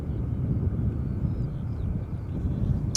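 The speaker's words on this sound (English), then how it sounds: "Arriving from Johannesburg, South Africa, KLM flight 592, 777-200, in the air now for nearly 11 hours" A KLM Boeing 777-200 arriving at Schiphol Airport after a long flight from Johannesburg gives a low, distant engine rumble mixed with wind buffeting, steady and moderately loud.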